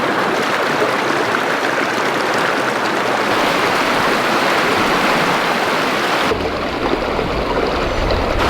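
A creek rushes over rocks on a Coffs Harbour four-wheel-drive overland trip, a steady loud broadband roar of flowing water, close by and continuous, with no voices.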